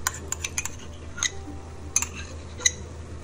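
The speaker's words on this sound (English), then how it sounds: "And give it a good stir." Metal spoon clinks against a pot while stirring ground meat with dry seasoning and Dijon mustard for lasagna, a handful of sharp, irregular taps spread across a quiet background.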